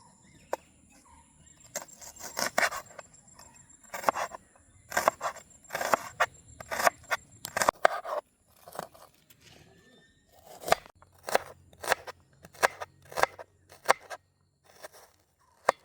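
A knife chops big onions finely on a board in a village-style kitchen, giving a fast run of crisp, close taps in uneven bursts with short pauses between them.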